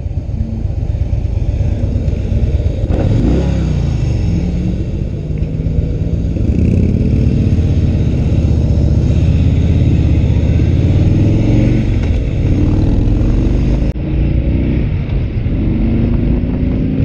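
Harley-Davidson Softail Slim S motorcycle with stock exhaust pipes, a loud, steady, deep engine rumble heard close up while riding, with pitch shifts as the revs rise and fall and no talk over it.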